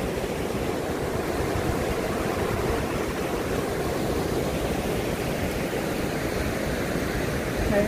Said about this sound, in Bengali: এই যে জল বয়ে যাচ্ছে